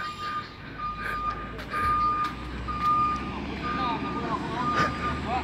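A furniture bus at a stainless cabinet furniture market reverses, its repeated high reversing beeps sounding in a steady rhythm over a low idling engine rumble, with people talking nearby.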